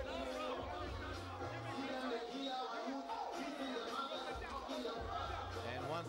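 A crowd of boxing fans murmurs and chatters throughout a final-round fight night, a steady babble of many voices heard at a distance under nearby talk.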